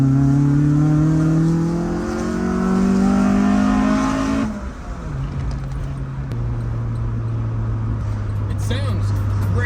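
An old Toyota Corolla with a swapped engine revs up and settles back, a steady droning engine note rising and falling close by, with a voice talking over it.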